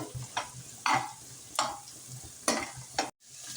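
Whole cardamom pods, cloves and peppercorns stirred into partly cooked biryani rice in a pot: five or six distinct spoon scrapes, each a short rustling sweep, close and fairly quiet over a soft background.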